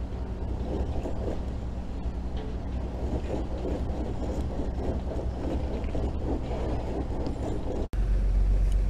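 A 1938 GMC service truck strains to drag a cold IH crawler tractor, its engine a steady, loud low rumble that runs without a break for about eight seconds before a short dropout and a heavier thump.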